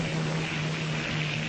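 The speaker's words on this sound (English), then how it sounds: "That's my plane." A propeller airplane nicknamed the Flying Dutchman drones steadily and fairly close, a constant engine hum with a sustained low tone and a hissy wash over it, no voices.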